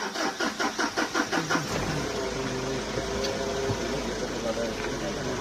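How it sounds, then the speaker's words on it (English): A car engine cranks with a rapid rhythmic churning for about two seconds, then catches and settles into a steady rough running hum, close and fairly loud, with people talking faintly in the background. "Boy, that engine better have start."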